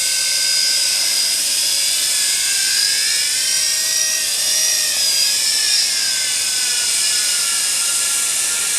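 A Tarantula X6 drone flies outdoors near trees on a windy day, giving a loud, continuous high-pitched rotor whine whose pitch wavers and shifts as the throttle changes, with no talking.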